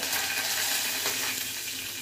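Cumin, mustard seeds and asafoetida crackle and sizzle in hot oil during a Marathi-style tempering, a steady dense frying hiss, close and fairly loud with no voices.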